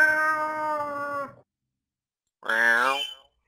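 A human voice imitating a cat's meow, two drawn-out, tonal meows separated by a second of silence, the second one rising and falling, loud and close.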